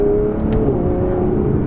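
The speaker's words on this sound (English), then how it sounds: "you can really hear that 177 derived exhaust system crackling" An Aston Martin Vanquish engine drones loud and close at steady revs, with a couple of brief crisp pops from its exhaust system over the constant hum.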